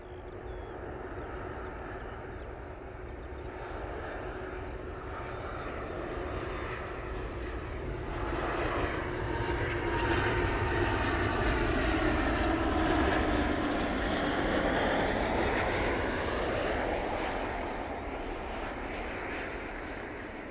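A Ryanair airliner on approach, its engines a broad steady roar that swells gradually and stays loud for the full stretch, heard outdoors from the ground without any talk.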